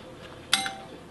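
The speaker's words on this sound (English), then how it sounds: "Sorry, I forgot I didn't have to ring the bell." A single bright ding from a box office service bell in an office setting, a short struck ring that decays quickly against a quiet background.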